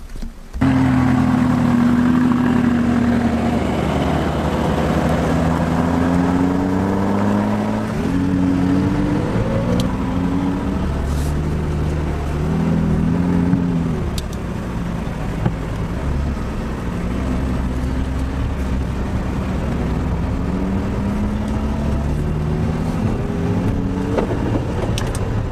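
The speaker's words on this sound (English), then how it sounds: "this is the 570 GT, and this car is what I'm about to drive right now" A purple McLaren 570 GT sports car drives on the road, its engine loud and close, revving through rising and falling tones as it accelerates and shifts over a continuous roar, with no talking.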